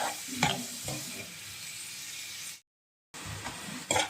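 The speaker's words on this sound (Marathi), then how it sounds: "कांदा चांगला आपण व्यवस्थित परतून घ्यायचा थोडा नरम झाला पाहिजे" Chopped onion sizzles in a pan with ginger-garlic paste while being stirred and softened, a steady close frying hiss with scraping stir strokes, broken by a brief silent gap before it resumes.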